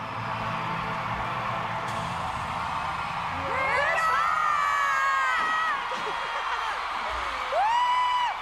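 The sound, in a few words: crowd cheering after first song at concert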